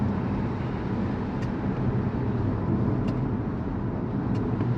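A 2024 BYD Seal Performance, a 390 kW dual-motor AWD electric car, accelerates on the road, giving a continuous low rumble of road and drivetrain noise inside the cabin with no pauses.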